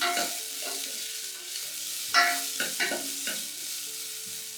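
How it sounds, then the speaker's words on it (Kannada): A medium-sized onion and half a head of garlic sautéing in a pan for jeera rasam, giving a soft continuous sizzle with a few sharper stirring scrapes in the middle. "ನಂತರ 1 ಮೀಡಿಯಂ ಸೈಜ್ ಈರುಳ್ಳಿಯನ್ನು ಸೇರಿಸಿ ಬಾಡಿಸಿ"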